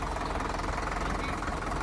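A tractor engine runs at a steady idle, close and loud, with a continuous knocking diesel rumble and no other sounds.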